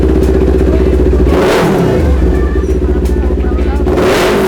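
A Kawasaki Ninja 400 fitted with an X1 racing pipe muffler runs close by, loud and raspy, with a quick rev swell in the middle and a pulsing idle around it.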